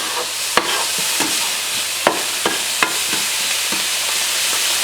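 Onions sweating gently in a pan without browning, with a soft steady sizzle and several sharp stirring clacks spaced through it; no voices.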